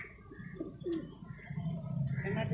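Pigeons in a ready-made breeding-pair cage coo softly and steadily nearby, with faint chirps and rustling around them, across a short stretch of continuous low cooing.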